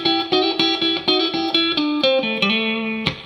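An electric guitar plays a blues riff of harmonized double-stop notes from the Mixolydian scale, eight or so evenly picked chords followed by a few sliding, sustained ones, loud and close with no talking.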